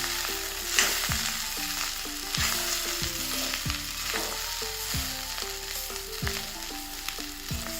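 Oysters, onion and grated coconut sizzle loudly in a pan over a medium flame, with a steady fry and repeated rhythmic scrapes of stirring, and music playing underneath.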